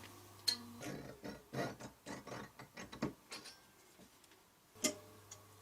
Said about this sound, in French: avec la roulette zigzag je vais faire des crans dans le fil